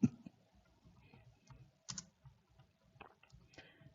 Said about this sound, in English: I'm not able even to type correctly.